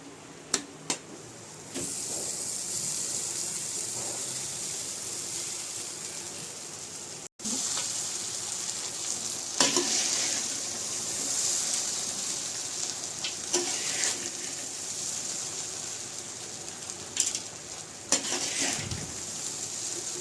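Tamarind rice (pulihora) with peanuts being stirred in a pan, a steady scraping and soft sizzling that runs continuously at close range, with a few sharper clinks of the spoon against the metal and no talking.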